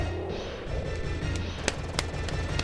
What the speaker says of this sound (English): you can tell it's the final boss because it's an even bigger explosion